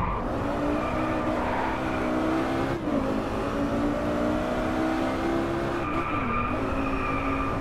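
An Audi R8 V10 Coupe Plus screams around a DriveClub race track, its engine note dipping under hard braking into a corner while tires squeal, loud and continuous throughout.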